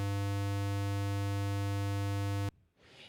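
A steady, buzzy square wave tone, a fully clipped sine wave rich in harmonics, drones loudly and without change for about two and a half seconds, then cuts off abruptly, leaving a short burst of soft noise.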